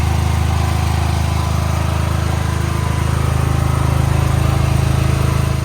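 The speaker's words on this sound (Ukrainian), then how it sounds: "Ось запустився генератор." Daewoo 7.5 kW generator with automatic start and AVR, running steadily after starting itself, a loud constant engine drone with no pauses and no talk.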